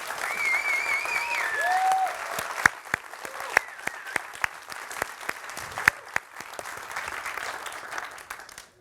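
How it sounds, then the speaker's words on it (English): Audience applause for FameLab International 2018 semi-final contestants: dense, sustained clapping from a large crowd with a few sharper claps standing out, steady throughout. "Can we have another round of applause, please, for all their collective brilliance?"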